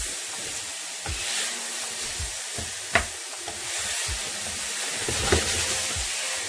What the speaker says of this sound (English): I'm gonna give it a little stir just to break up some of the slightly bigger pieces